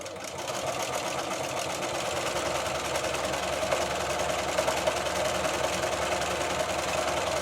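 A sewing machine stitches a buttonhole on a cushion, a steady fast mechanical whirring hum running continuously after a brief start, no talk.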